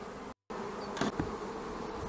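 Honeybees humming steadily around a beehive on a warm spring day, a dense continuous buzz close by with a momentary dropout and a couple of brief louder passes.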